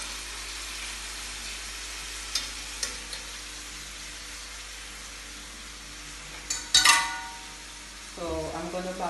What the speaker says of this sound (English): It's 10 minutes since I put the chicken in the pot to brown